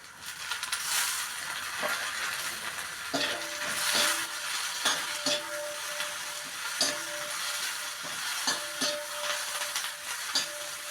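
Curry leaves and tomato pieces frying with browned onion in a pan for Khandeshi baingan bharit, a steady crackling sizzle with repeated scraping strokes of a spatula and brief tonal clinks, close by, with no speech.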